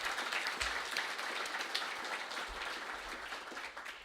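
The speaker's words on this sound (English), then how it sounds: "Give them a round of applause, everybody." A crowd at a candidates forum on affordable energy applauds the candidates, steady moderately distant clapping sustained for several seconds without speech.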